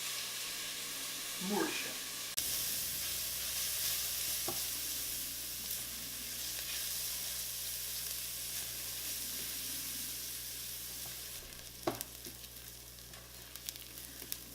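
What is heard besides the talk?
onion and garlic sautéing in pan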